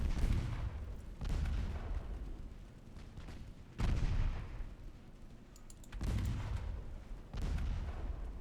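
Secondary guns aboard a warship in the naval combat game Ultimate Admiral Dreadnoughts firing in salvos, heavy booming reports arriving about every one to two seconds with rumbling tails, loud and close, with no talking.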